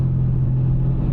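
A Subaru BRZ track car's engine on throttle during a racing-school lap of an F1 circuit, a steady, loud low drone heard from inside the cabin with no voices.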